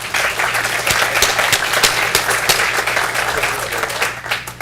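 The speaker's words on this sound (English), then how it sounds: "could we also have a round of applause for all of the presenters" A panel audience applauds the presenters at the close of a roundtable session, a steady round of clapping with distinct sharp claps close by over the dense crowd.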